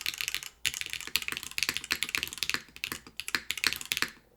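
Fast typing on a Tofu65 3.0 mechanical keyboard, a dense run of crisp, close clicks and clacks in an uneven rhythm, with brief pauses between bursts.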